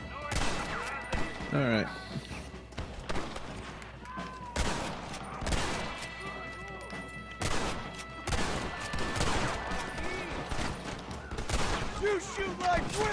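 Gunfire crackles in a Western shootout in the video game Red Dead Redemption, with repeated loud shots and volleys over game music and sound effects, and someone speaks briefly.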